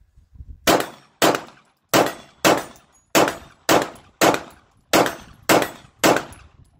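Rapid pistol fire from a Canik TP9SA Mod2 striking a large steel plate, about ten sharp shots in a steady, quick rhythm, each ending in a short metallic clang, loud and close with no talking.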